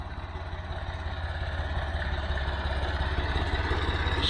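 A tractor engine idles on a hay farm with a steady, low rumbling throb that holds evenly from start to finish, fairly close, with no talking.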